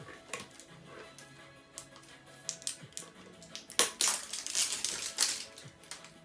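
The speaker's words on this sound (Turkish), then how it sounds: "Dışında böyle poşet var. Onları açayım." The plastic wrap on a JBR tobacco box is torn and peeled open by hand, close and fairly faint, giving irregular crinkling and crackling with sharper rustling bursts toward the end.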